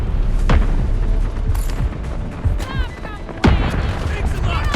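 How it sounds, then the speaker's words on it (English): A missile strike lands in the mobile shooter Delta Force Mobile, with heavy booming blasts and rumbling impacts layered over gunfire and game noise. A brief radio-style voice is heard. "Requesting missile strike."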